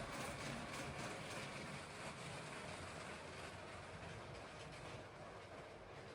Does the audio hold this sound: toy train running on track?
yes